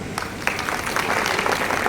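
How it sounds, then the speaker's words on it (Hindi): Audience clapping at an International Women's Day event, a short burst of scattered hand claps building quickly and continuing steadily, heard alone without talk. "अब मेरे भी ताली बजाओ।"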